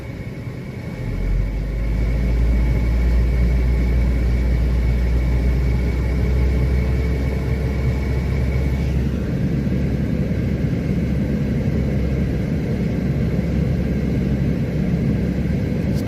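A car engine held steady at raised revs during a diagnostic test, with the lights and heater motor switched on, producing a continuous low drone that rises in the first two seconds and then stays level and fairly loud throughout.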